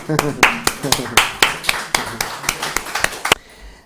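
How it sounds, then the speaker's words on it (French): A small audience at a Universal Peace Federation conference on peace in the African Sahel claps for arriving speakers, distinct, close handclaps in a quick, fairly regular rhythm that stop abruptly near the end. "On peut les applaudir"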